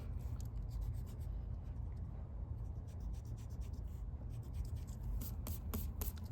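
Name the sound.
erasing a pencil line on paper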